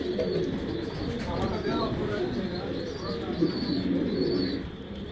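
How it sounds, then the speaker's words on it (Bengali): A silver racer pigeon coos softly and repeatedly in a loft, its low burbling calls running under steady background noise and other birds, with a voice talking over it. "এটা একটা সিলভার রেসার কবুতর।"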